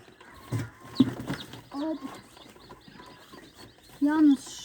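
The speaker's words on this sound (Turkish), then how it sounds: "Evet sanırım tavuk." A young chicken clucks a few times in short bursts, close by, amid quiet background noise.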